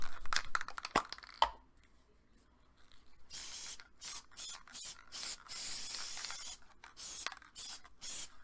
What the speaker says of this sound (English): to spray 6 to 8 inches above the surface